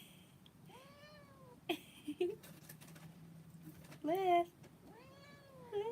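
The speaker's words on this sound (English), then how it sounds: "You'd think that she's like angry, but yeah, that's the mom cat." Mother cat screaming with a run of loud, drawn-out meows, one near the start, a sharper burst near the middle and another at the end, close to the listener with brief talk between them.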